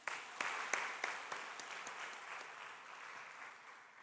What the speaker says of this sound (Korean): 서로 수고하고 잘했다고 우리 서로 보면서 격려 박수 한번 좀